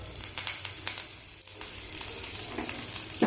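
Garlic, curry leaves and chopped shallots fry over high heat in a pan, producing a close, bright, steady sizzle with intermittent stirring scrapes.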